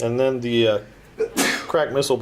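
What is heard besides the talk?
sneeze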